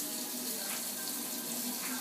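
Water pours steadily from a tap into a pot of chicken tikka masala, a continuous close splashing rush that stays level throughout with no talking.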